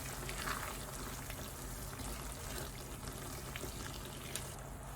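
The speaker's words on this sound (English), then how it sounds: "keep on frying till it starts to caramelize, i.e. turn golden." A dense, continuous sizzling hiss of onions frying in a pan until caramelized and golden, steady and fairly loud throughout with no voices.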